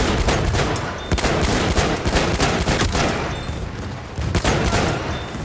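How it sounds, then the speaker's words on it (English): Rapid automatic gunfire from a Battlefield 1 weapon fired from the hip in a multiplayer match, dense continuous bursts with crackling shots and mixed battle noise, loud and close throughout. "Hip fire's not too bad on this weapon."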